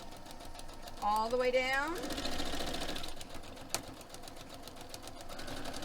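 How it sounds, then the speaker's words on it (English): A sewing machine stitches fabric on a paper-pieced syringe quilt block, its motor whirring steadily and close for several seconds, with a rising whine near the start and a person talking briefly over it. "So we're going to start sewing right into that V right there."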